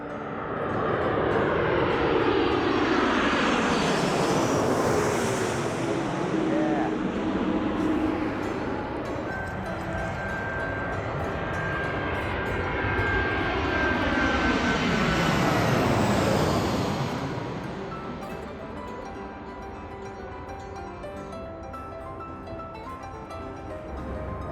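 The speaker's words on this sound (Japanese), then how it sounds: "空港北口にある空港通りは飛行機が真上を通過するので" Airliner passing low overhead above a road near Fukuoka Airport: a loud, sustained jet roar sweeping in and fading, then a second loud pass building and receding, with no talk.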